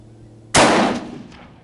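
A single sharp Savage bolt-action rifle shot fired at a 200-yard target, loud and close, with a sudden crack followed by a short, fading echo.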